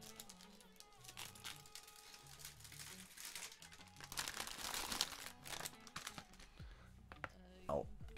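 A small plastic bag of LEGO parts crinkles and rustles up close while a person talks, with scattered clicks and handling noises mixed in.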